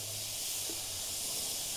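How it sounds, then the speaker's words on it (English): An airbrush sprays with its air cap removed and the needle exposed, giving a steady close hiss that runs without a break for the whole stretch. "You can see it's spraying nicely."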